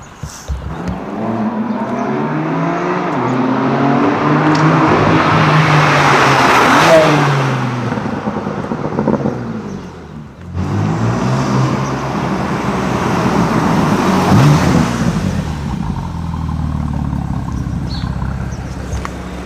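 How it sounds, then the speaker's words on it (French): A Java Green BMW M3 F80 Competition, one of 70 made, roars past twice, its engine swelling loud and close, revving hard through each pass before fading, with traffic noise around. "vous m'en dites un peu plus sur le son aussi de la voiture"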